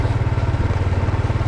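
Motorcycle ridden at midday through a narrow residential lane with many speed bumps in Pematang Siantar, its engine thrumming in a steady pulsing rhythm, close and loud throughout.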